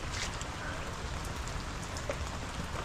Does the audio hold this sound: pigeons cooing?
no